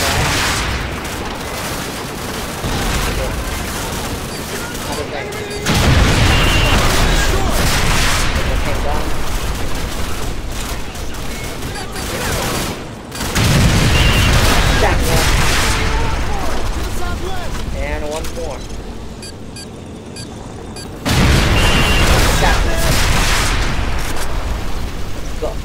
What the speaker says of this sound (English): We're taking heavy fire on our position